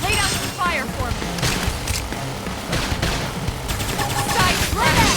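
Video game gunfire from Xenoblade Chronicles X crackles in dense rapid bursts amid battle noise, with voices calling out over the shooting.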